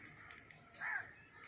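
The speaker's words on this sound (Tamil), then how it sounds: "குருவி எல்லாம் சவுண்டு போட்டுன்னு இருக்குதுங்க" A single faint crow-like caw rises once from birds in the trees, distant and soft over quiet outdoor ambience.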